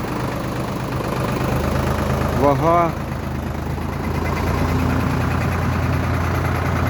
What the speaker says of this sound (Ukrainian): Тяжкий трактор.